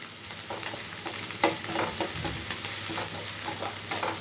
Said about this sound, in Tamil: அதையும் போட்டு கொஞ்சம் நல்லா வதக்கிக்குங்க.